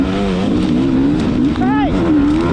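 An enduro motorcycle engine at a sprint enduro race revs hard as the throttle opens, the pitch wavering then climbing sharply in a loud, close burst with a quick throttle blip near the end.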